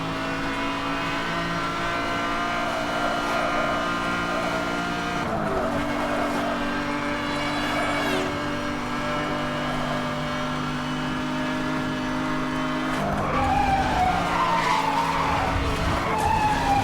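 A race car in Need for Speed: Hot Pursuit (2010) roars at around 350 km/h with a steady loud engine drone, broken by sharp tire squeals and skids as it slides sideways, with a fresh burst of skidding near the end.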